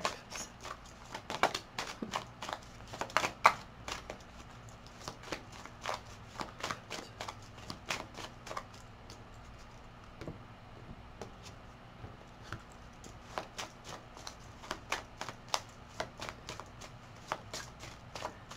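Tarot cards are shuffled for a card reading, with repeated close riffles and soft slaps in irregular bursts over a quiet room and a few faint murmurs.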